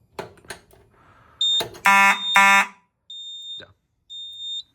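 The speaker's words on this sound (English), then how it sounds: "It's just gonna go back into alarm, but let's go ahead and test." A Simplex 4004 fire alarm panel's test station goes into alarm with loud harsh buzzing horn bursts, followed by two high steady electronic beeps. A short spoken word is heard just before.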